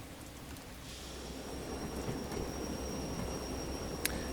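Steady rain hisses down in the train game Derail Valley, a dense, even patter with a low rumble underneath, continuous and fairly close, with no talking.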